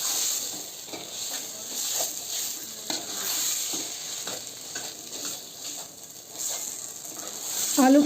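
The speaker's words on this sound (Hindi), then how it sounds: "आलू को फ्राई करते हुए 3 मिनट हो चुके हैं।" Potatoes frying in a pan for a puff patty filling, a steady close sizzle with intermittent scraping and stirring strokes, moderately loud and without talk.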